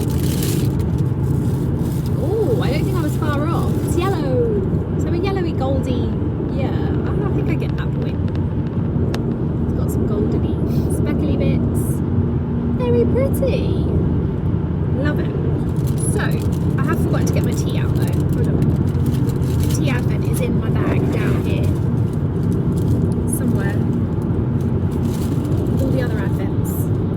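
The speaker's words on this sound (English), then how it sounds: "it's very bumpy, sorry, it's because we're in the car" Interior of a moving car on a bumpy road, with steady low road and engine rumble and small rattles and knocks throughout, while people talk over it.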